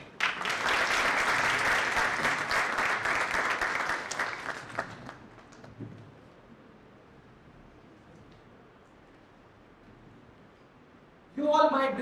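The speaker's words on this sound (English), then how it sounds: "Let's give a rousing round of applause as we welcome our next speaker, Master Jayant Singh" A rousing round of audience applause welcoming the next speaker at a student chapter event, loud and dense for about five seconds before dying away into near silence, followed by a brief burst of sound at the end.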